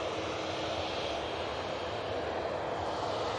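A TUI Boeing 787 Dreamliner at an airport gives off a steady, even engine roar at moderate distance, continuous throughout with no speech.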